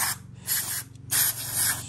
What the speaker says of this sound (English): I'm gonna take some throttle body cleaner and just